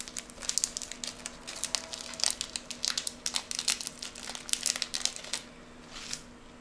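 Plastic packaging of Rollton and Doshirak instant noodles crinkles and rustles close up in a series of sharp, irregular bursts over a faint steady hum, with no talking.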